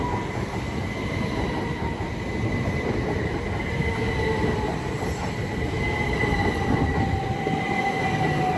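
A Class 375 electric multiple unit rolls past at New Cross on the South Eastern Main Line, running from Grove Park carriage sidings toward London Charing Cross. Close, loud rumble with wheel squeal and tonal whine that swells slightly toward the end.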